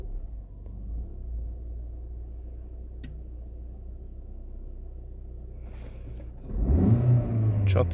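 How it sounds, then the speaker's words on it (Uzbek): A Lada Vesta with a 1.6 engine and a misfire fault idles with a low rumble, then gets a sharp, quick throttle blip near the end that swells into a loud, close rev. "Chotki gaz ko'tarishlari."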